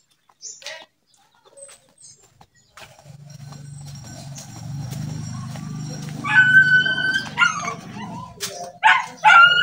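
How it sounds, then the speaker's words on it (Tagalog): A pet dog barks in short, sharp yips and yelps, loudest near the end, over a steady low rumble; faint brief voices are heard early on. "Yung aso ko."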